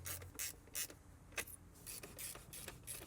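A ratchet with an extension tightens valve cover bolts on a Toyota Sienna engine, giving repeated short clicking bursts in uneven runs, close and quiet.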